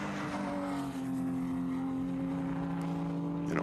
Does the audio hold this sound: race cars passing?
yes